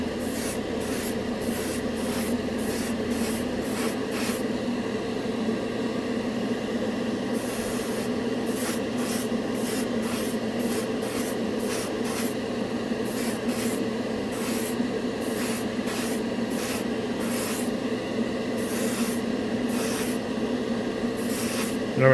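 An airbrush blows plain air to dry freshly sprayed Turbo Dork color-shifting metallic paint, giving a steady close hiss with short repeated bursts of stronger airflow throughout, and no talking.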